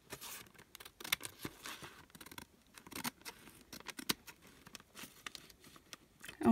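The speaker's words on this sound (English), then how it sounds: "Now we gotta cut around this one." Scissors snip and slice through shiny glued paper around a window envelope pocket on a craft page, with close, irregular bursts of cutting and faint paper crinkling, no talking.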